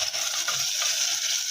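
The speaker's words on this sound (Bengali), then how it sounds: "চিংড়ি মাছ, আলু দিয়ে একটু নাড়াচাড়া করে" Shrimp and potatoes fry in a pan while being stirred, giving a continuous close hiss of sizzling oil with soft scraping strokes underneath.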